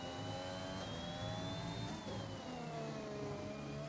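A Formula 1 car in the F1 2021 racing game holds high revs, giving a faint, steady, buzzing engine whine whose pitch climbs and then dips slightly, with no voices.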